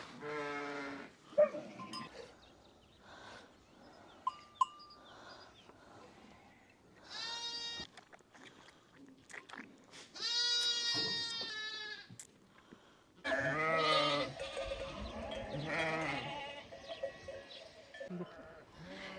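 A mountain flock of sheep and goats bleats repeatedly at varied pitches, some calls near and loud, others fainter, with overlapping cries and brief quieter gaps between bursts.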